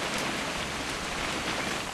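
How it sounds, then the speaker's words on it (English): Steady, dense rain hissing without pause in the video game What Remains of Edith Finch, an even wash of falling drops close around the listener with no voices. "It's gonna rain the whole weekend,"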